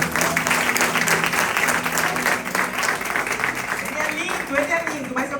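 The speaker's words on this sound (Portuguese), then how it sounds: "Aplauda mais uma vez aí." Audience applause at a church immersion event, dense and sustained clapping from a large crowd filling the room, with someone speaking over it.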